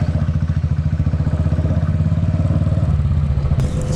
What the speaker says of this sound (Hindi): बट लाउड एग्जॉस्ट में ऐसा डर लगने लगता है, पता नहीं क्या हो रहा है, बहुत ज़्यादा आवाज़ करने लग रहा है।